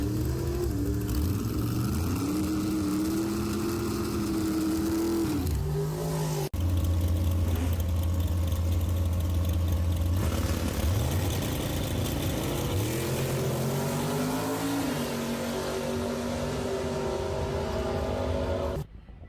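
A Mustang drag car makes a full pass down a drag strip, its engine loud and close, revving up through several rising gear pulls before cutting off abruptly at the end.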